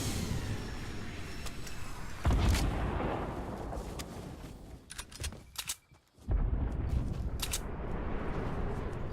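Turret gunfire in the video game Fortnite: repeated booming, punchy shots with sharp attacks spread across the stretch, one louder burst standing out, with a brief near-silent gap in between.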